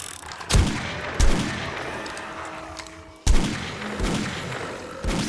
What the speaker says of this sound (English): So nice accurate shots